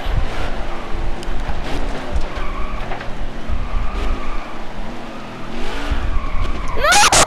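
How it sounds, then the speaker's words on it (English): Tires skid and scrape as stock cars collide during an Xfinity Series race in NASCAR Heat 5, engine roar running throughout and a sharp impact crackling at the very end. "Big crash!"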